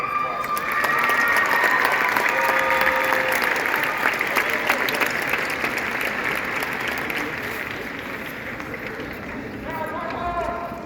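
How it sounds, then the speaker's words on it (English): A large crowd at a high school graduation ceremony applauds continuously and loudly, a steady roar of clapping with some cheering mixed in, slowly fading toward the end. "So give them a big round of applause."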